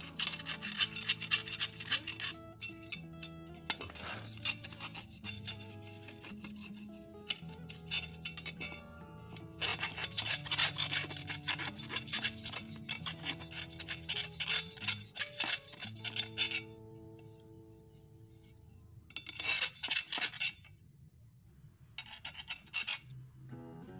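Someone sands the inside of a drilled metal airgun tube with sandpaper, making harsh rasping strokes in bursts with short pauses and occasional metallic clinks, close and alone.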